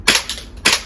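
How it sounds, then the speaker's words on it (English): A VFC gas blowback MP5 airsoft gun fires a quick double tap: two sharp, loud cracks about half a second apart, each with a short mechanical clack of the cycling bolt. "Double tap there."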